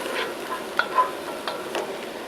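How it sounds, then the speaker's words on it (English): Onion sautéing in a Dutch oven for tomato soup, a soft steady sizzle with a few light stirring clicks, close but quiet. "In goes the onion into the party. Saute this till it gets nice and tender."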